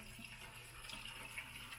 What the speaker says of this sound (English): there is some water coming off.